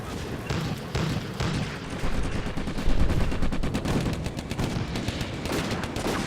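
Dense gunfire crackles through a World War II desert tank battle in the Combat Mission: Afrika Korps game, with rapid machine-gun bursts and scattered booms rolling on continuously at moderate volume.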